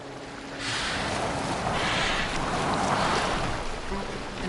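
A boat sails on open water in Assassin's Creed Valhalla, with a steady broadband wash of waves and wind that swells in after a quiet start and holds at an even, fairly loud level.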